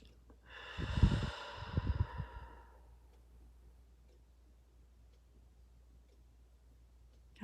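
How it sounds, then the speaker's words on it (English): A slow, drawn-out breath demonstrates box breathing: one long, fairly close exhale with a brief airy rush, then quiet holding with only faint room noise and a small click at the end. "Breathe out to a count of 4, and hold it to a count of 4"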